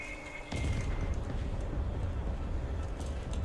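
Fireball explosion in Serious Sam 4, a sudden crackling blast that starts abruptly and then rolls into a sustained roaring rumble of fire, loud and alone.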